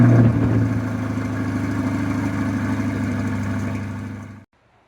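A Chevrolet Corvette C8 engine idles steadily and close by after a cold start, with a low, even rumble that cuts off abruptly near the end.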